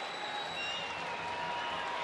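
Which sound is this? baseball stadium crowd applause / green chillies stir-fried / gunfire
baseball stadium crowd applause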